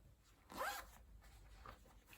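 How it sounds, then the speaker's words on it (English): A fabric clutch bag's top zip pocket being zipped, one quick close zipper pull followed by a fainter short rasp, quiet and alone with no talking. "a zip pocket at the top"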